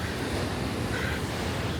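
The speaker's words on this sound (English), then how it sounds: "The waves are pretty nuts here." Rough ocean waves at Bondi Beach under grey skies, a continuous dense wash of surf and wind noise without a break, fairly loud and unbroken for the short stretch.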